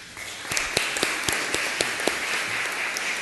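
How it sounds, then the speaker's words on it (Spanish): An audience at an evening event claps to welcome a speaker to the stage: steady, dense applause with a few sharper individual claps standing out, filling the whole moment without any talk. "recibiéndolo con un fuerte aplauso."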